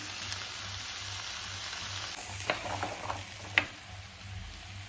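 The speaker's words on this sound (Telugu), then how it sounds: "ఇదంతా ఫ్రై అయ్యాక మనం బీన్స్, ఆలుగడ్డ, క్యారెట్, టమాటో అన్నీ కలిపి వేసేసుకోవాలండి." Beans, potato, carrot and tomato fry in a pan for multi-rava upma, giving a steady soft sizzle with a low hum underneath and a few brief clinks of stirring.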